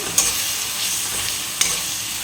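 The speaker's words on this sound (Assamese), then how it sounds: "মছলাখিনি 2 মিনিট মানে মই পিঁয়াজৰ লগত ভাজিম" Spices frying in oil with previously fried onions for a chicken dish, a steady close sizzle throughout, broken by two brief clicks of a stirring utensil against the pan.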